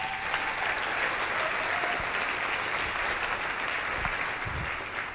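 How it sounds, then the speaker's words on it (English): Luncheon audience applauding steadily for about five seconds, a dense even wash of many hands clapping in a room, fairly distant and moderately loud throughout. "I think it deserves a round of applause."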